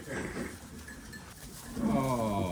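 Goats on a farm in Portugal, a bleat rising near the end over low rustling and background movement.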